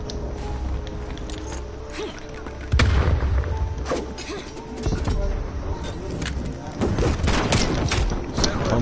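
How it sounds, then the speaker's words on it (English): Gunfire and explosions from the video game Call of Duty Warzone, with bursts of shots and heavy booms throughout a dense, busy mix, players talking over it. "Not when they're spraying at me with bullets."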